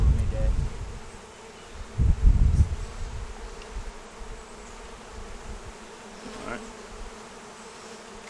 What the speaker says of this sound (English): So many flipping, flapping bees.